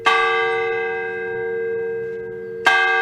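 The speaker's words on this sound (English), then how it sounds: "The bell in the Sacred Heart Church tower sounds the hour on a late summer Sunday morning" A church bell strikes once with a bright ringing tone that slowly decays, then strikes again near the end; no voices.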